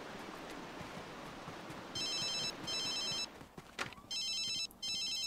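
Telephone in a video game rings in repeated electronic bursts, four distinct ring pulses in pairs over a soft steady background hiss, fairly faint.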